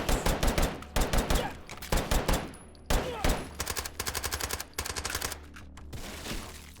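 Rapid bursts of automatic gunfire from a gun in a shooter video game, loud and close, firing in short rhythmic volleys separated by brief pauses.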